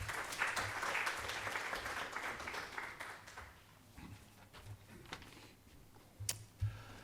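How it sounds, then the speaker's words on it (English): Audience applause at a university ceremony at Hamad bin Khalifa University as the provost is welcomed to the stage: dense, steady clapping for about three seconds, then thinning to scattered claps that fade away. "Rounds of applause."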